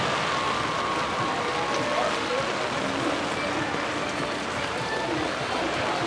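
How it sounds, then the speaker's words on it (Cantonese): Heavy typhoon rain pouring at night on the streets of Shinjuku, Tokyo, during Typhoon No. 7, a dense, unbroken roar of rain that stays loud throughout, with no voices standing out. "依家根本係等於香港嘅黃雨，接近紅雨咁滯㗎啦"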